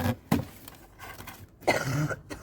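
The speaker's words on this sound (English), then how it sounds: "coughing like a good one today" A few rough coughs and throat-clearing sounds, close and fairly loud, spaced unevenly over a couple of seconds.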